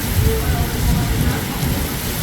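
Heavy rain pours down steadily in a dense, continuous roar close by, with a strong low rumble suggesting wind, and no pauses across the stretch.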